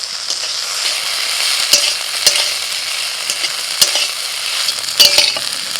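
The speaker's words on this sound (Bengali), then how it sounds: "ওই জন্য এই ঢ্যাঁড়স ভেজে দিই" Okra frying in hot oil with onion and chilli in a home kitchen, a steady bright sizzle throughout with occasional sharp crackles and pops, close and fairly loud, no voices.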